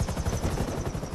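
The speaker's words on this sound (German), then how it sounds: "Richtig, richtig geiler Heli, muss man schon sagen." A helicopter in the video game GTA Online, its loud rotor thudding in a steady, fast chop that is close and continuous, with no talk over it.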